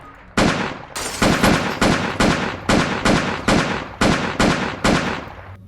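Compact rifle fire in Roblox: nine sharp, loud gunshots in a steady rhythm, each with a short ringing tail, alone with no talk.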